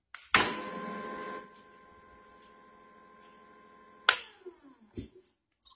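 A Latina 600N coffee grinder whirs loudly for about a second, then a low motor hum lingers until a sharp clack and a few short knocks close it out.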